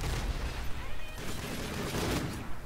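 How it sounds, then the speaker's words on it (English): A no-scope sniper rifle shot in Infinite Warfare multiplayer, amid busy game noise with dense crackling bursts, the shots sitting inside a continuous loud mix rather than standing out alone. "That was a nice little no scope."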